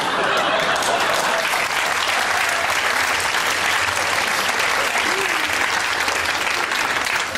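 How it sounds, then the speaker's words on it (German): A cabaret audience bursts into loud, dense applause, a continuous roar of clapping that fills the hall and holds at full strength throughout. "Die Pointe war etwas einfach für so viel Applaus"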